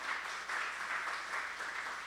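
A church congregation claps together in a soft, distant, even wash of applause that stays steady for a couple of seconds.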